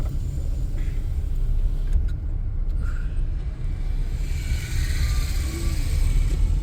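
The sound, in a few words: car driving past on a mountain road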